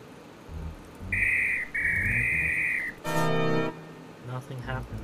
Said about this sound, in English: Blow whistle.